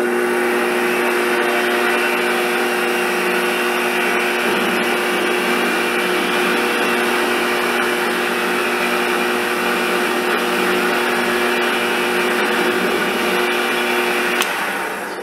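A lathe faces a part using a homemade boring bar, a steady loud whirring hum with a constant machine tone and no talking.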